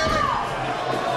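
Crowd at a boxing match roars and cheers, a loud continuous wash of voices with a rising whoop.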